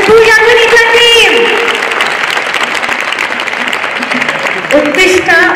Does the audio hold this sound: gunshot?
no